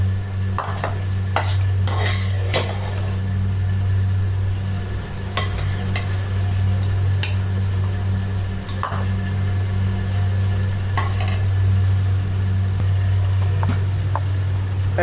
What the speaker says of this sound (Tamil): பொரியலை கொஞ்சம் பேசினில் எடுத்துக்கலாம்